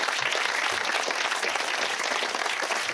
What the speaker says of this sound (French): Je crois qu'on peut s'applaudir parce que c'était une bonne soirée.